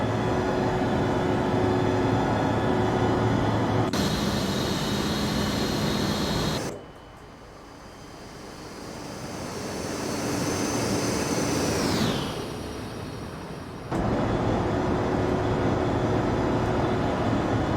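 An ERJ 650 jet in X-Plane 11 climbs out with a loud steady engine roar. The roar drops for several seconds while the landing gear retracts with a whining, descending mechanical sweep and then returns to full strength. No talking.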